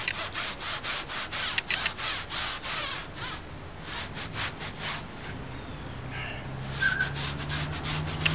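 Tire dressing is worked into a car tire by hand with rhythmic rubbing and scrubbing strokes, close and steady, in short repeated bursts with no talking.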